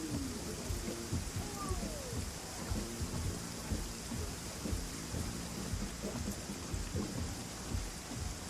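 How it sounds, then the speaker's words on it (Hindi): Heavy rain pours steadily throughout, with low rumbles of thunder rolling underneath the constant downpour. "बहुत तेज बारिश है भाई।"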